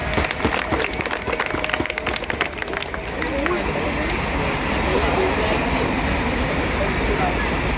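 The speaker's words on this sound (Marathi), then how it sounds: "चला टाळ्या वाजवा जोरदार" An audience at a street play claps loudly, and the dense applause sounds close, then settles into a sustained even roar.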